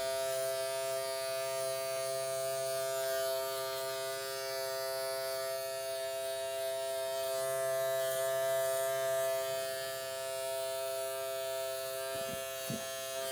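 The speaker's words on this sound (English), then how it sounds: "I need to make sure that I'm taking my clipper directly into that growth pattern on both sides" Electric hair clippers cut a child's hair with a steady, close, high-pitched buzz that runs throughout, pulsing slightly as the blades move through the hair.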